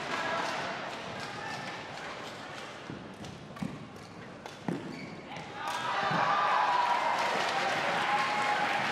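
A badminton arena crowd at the Australian Open, with a Malaysian flag waving, lets out scattered claps and a few thuds before swelling into loud, sustained cheering and applause near the end, with commentary over it.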